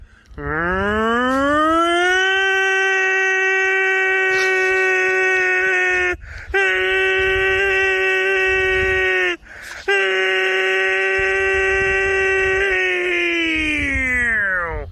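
A voice imitates a tornado warning siren, a long rising wail held steady with two brief breaths, then tapering off at the end.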